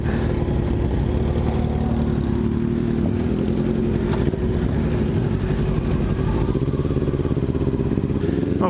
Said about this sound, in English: Noisy bike. Mine don't sound quite like that. Way too loud.